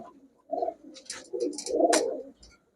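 Soft, low cooing of high-flyer Giribaj pigeons in a few short bursts, close by, with faint higher chirps and quiet gaps between calls.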